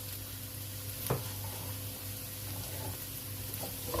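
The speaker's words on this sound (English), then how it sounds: "Right, in go the green beans." Green beans sizzle steadily in a hot paella pan alongside garlic, a constant close frying hiss broken by a few soft scrapes and clacks of stirring.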